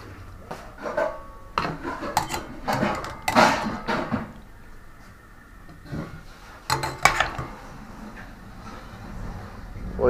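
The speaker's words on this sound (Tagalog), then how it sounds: "ilalabas na ni Missy sa kaldero, ilalagay sa plato." Adobo chicken feet are moved from a cooking pot onto a plate, with scraping and rubbing of a utensil against the pot and plate and intermittent clinks of dishes, close and uneven, with faint voices in the background.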